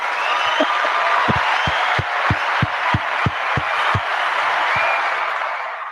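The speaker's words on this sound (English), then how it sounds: "Let's give this nigga a round of applause." Audience applause ripples through a room, a broad wash of clapping with a run of regular low thumps, like stomping or pounding, under it, fairly loud and steady throughout.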